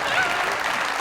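An audience on a talk show claps in a short, steady burst of applause, with a faint voice briefly rising over it near the start.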